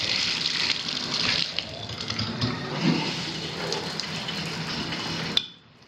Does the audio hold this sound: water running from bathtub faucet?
yes